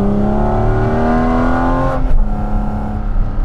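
A Porsche 911 engine revving loudly up close with the exhaust open, pitch climbing steadily before dropping off into a rumbling, burbling exhaust.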